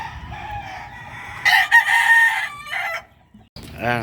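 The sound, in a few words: pet hen with her chicks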